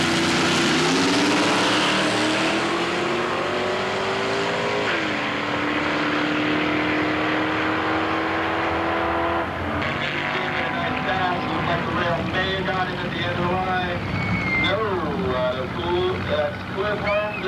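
At a drag strip, a 1953 Kaiser Henry J races a brand new front-engine rail. Their engines roar with shifting pitch through gear changes under wind buffeting, while an announcer's commentary runs over the noise.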